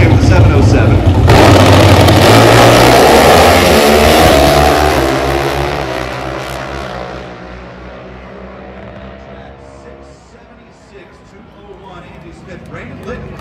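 A pro stock drag racing motorcycle at full throttle at the NHRA Northwest Nationals, Pacific Raceways, roars loudly before its engine note drops and fades into the distance, with commentary voices running over it.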